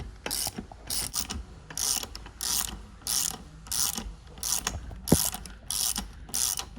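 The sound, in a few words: ratchet loosening motorcycle wheel axle nut with 17 mm socket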